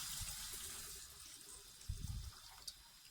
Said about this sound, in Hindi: तो अब हम इसमें बिल्कुल चिल पानी डालेंगे, मज़ीद 2 कप।